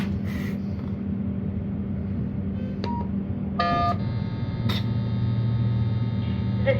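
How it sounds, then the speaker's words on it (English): A handful of short telephone keypad tones beep one after another over a steady humming background, spaced irregularly, from an emergency phone in a Schindler hydraulic elevator. "Excuse phone noises."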